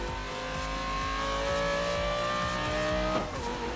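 A BMW engine in Need for Speed Most Wanted revs and accelerates steadily, its rising tones climbing through the gears with a faint tire squeal near the end and no talk over it.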